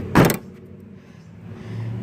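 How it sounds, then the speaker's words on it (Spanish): A car door shuts once with a solid, close thump, followed by a quiet, low hum from the parked car's surroundings. "Déjenme cierro el carro"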